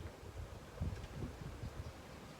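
Faint wind buffeting and rumbling across the microphone in soft, irregular gusts, with no voices.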